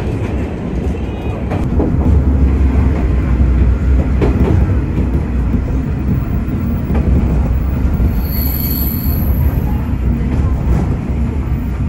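A train on the Yamaguchi Line rolls along steadily in a loud, continuous rumble, with faint wheel clatter and a brief high squeal near the end; no voices are heard.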